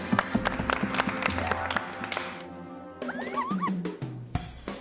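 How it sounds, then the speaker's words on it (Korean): Studio applause on a K-pop variety show featuring the group Wanna One, a short burst of claps that fades out, followed by cartoonish sound effects and a brief voice. "박수."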